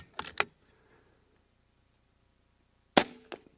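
An Air Arms S510XS Ultimate Sporter .25 air rifle fires pellets in two sharp, close cracks, each with a short tail, separated by about two and a half seconds of silence.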